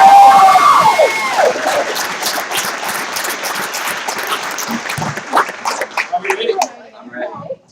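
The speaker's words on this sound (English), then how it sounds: "Let's give them a big round of applause" Wedding guests applaud and cheer for the couple, Caleb and Breana, in a loud burst of dense clapping with shouts that gradually thins out toward the end, with voices mixed in.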